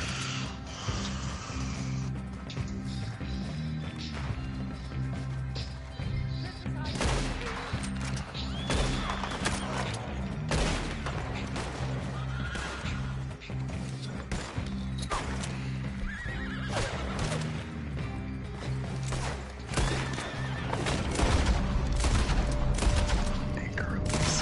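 Bolt action rifle gunfire in the Horse Simulator video game, sharp repeated shots mixed into a busy scene of galloping hooves, whinnying horses and other clatter, continuous and loud throughout.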